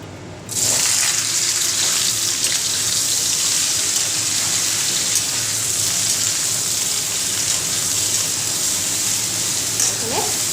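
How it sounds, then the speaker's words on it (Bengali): Spice-coated okra frying in hot oil in a wok for a vegetarian Bengali dish gives a loud, steady sizzle that starts abruptly and continues unbroken to the end. "ভেন্ডিগুলোকে একটু ভাজা ভাজা করে নেব"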